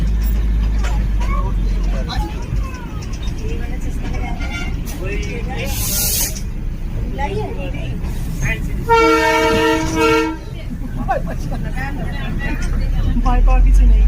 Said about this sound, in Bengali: পাহাড়ের গায়ে বেয়ে বেয়ে আমাদের ট্রেন এগিয়ে চলেছে ঘুম স্টেশনের দিকে।